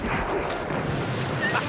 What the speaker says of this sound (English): The enemy ship's raised her cannons.